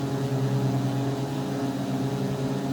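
Twin piston engines of a Carenado B58 Baron in X-Plane drone with their propellers out of sync, a steady low hum carrying a slow beating throb between the two engines, continuous and fairly quiet.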